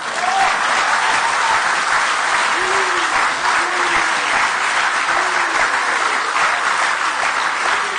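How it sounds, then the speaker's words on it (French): A crowd at a political rally applauds loudly and continuously, dense clapping filling the room from start to finish, with a few faint voices underneath. "Applaudissez-les."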